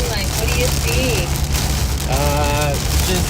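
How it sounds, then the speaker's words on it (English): Rain drums steadily on a moving vehicle during a storm chase through summer thunderstorms, a constant loud wash with engine rumble beneath and voices and a tonal chime or radio sound drifting over it. "Oh, we're getting some rain."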